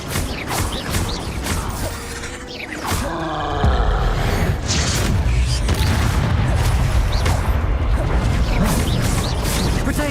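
Spell blasts and magical explosions from Hogwarts Legacy, a dense run of booms, crashes and whooshing bursts that build into a loud, sustained roar of combat effects.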